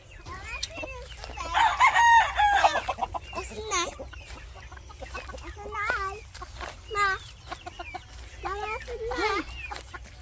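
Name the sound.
chickens clucking and rooster crowing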